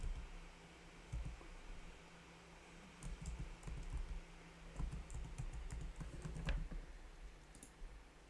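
Fingers tap a computer keyboard close by, entering a password in quiet, irregular clusters of soft key clicks over faint room hiss.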